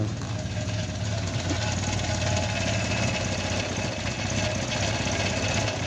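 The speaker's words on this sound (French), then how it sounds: "Le petit moteur, le son des Cléons, moi j'adore." A small Renault Cléon engine in a Renault 11 GTL idles steadily at close range, a continuous rumbling drone with a faint rhythmic knock and no pauses.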